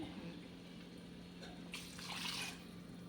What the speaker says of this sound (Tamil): இந்த பிரியாணிக்கு தேவையான தண்ணி ஊற்றின வேண்டியது